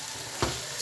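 Mutton karahi sizzling as the meat fries in oil in a wok, a steady close frying hiss with one brief louder stir or spatter midway.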